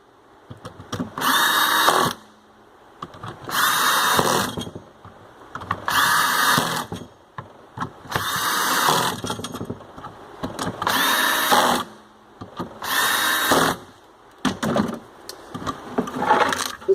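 Cordless power drill set to a slow speed driving screws into a pressure washer trigger gun, about six steady whirring bursts of one to two seconds each with short quiet pauses between them, close up.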